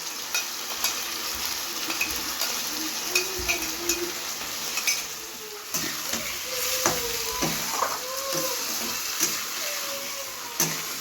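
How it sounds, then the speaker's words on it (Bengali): Ground spice paste sautéed with fried potatoes in a pan for a small-fish curry, a continuous sizzle under repeated spatula scrapes and light knocks, steady and close. "এবার ভালো করে আমরা আলুর সাথে এটাকে কষিয়ে নেব।"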